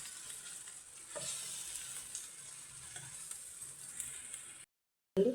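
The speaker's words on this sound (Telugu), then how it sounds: "3/4 స్పూన్ అల్లం వెల్లుల్లి పేస్ట్ వేసుకొని పచ్చివాసన పోయేవరకు వేయించుకుందాం." Ginger garlic paste fries in a pan for chicken liver fry, a soft steady sizzle with occasional stirring scrapes, close and moderately quiet, briefly cut to silence near the end before a louder burst returns.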